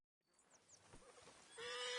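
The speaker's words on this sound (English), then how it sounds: "I've been meaning to offload this big Shire horse for a while now" A big Shire horse in Red Dead Redemption II lets out a whinny and snort, rising from near silence into a sharp, loud neigh at the end, with brief hoof sounds in between.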